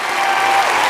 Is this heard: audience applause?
yes